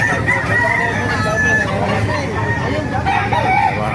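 A rooster crows loudly and repeatedly over a busy background of clucking fowl and faint murmuring voices at a chicken market in Baliuag, Bulacan.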